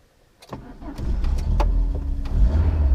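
A Peugeot 205 GTI engine cranks with a few quick clicks and whirs, then catches and settles into a loud, steady idle close by.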